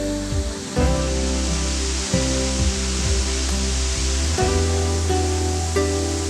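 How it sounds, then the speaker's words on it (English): Great Fall, a 78-metre waterfall at Plitvice Lakes in Croatia, gives a steady broadband roar of falling water that runs unbroken throughout, with tonal music layered over it. "One of the most famous park symbols is the Great Fall, a 78-meter high waterfall."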